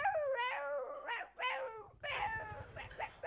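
A voice mimics a small dog, producing a string of whiny, howling barks and yips with pitch swoops, fairly close and steady.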